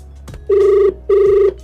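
A telephone ringback tone purrs twice on a radio prank call, two loud steady buzzing rings separated by a short pause.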